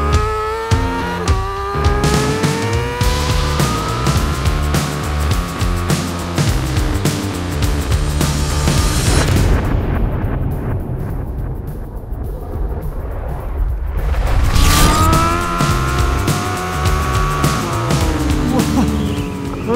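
A Honda CBR 1000 RR-R SP screams hard under acceleration on a race circuit, its engine note climbing loud and close through gear changes amid heavy wind roar.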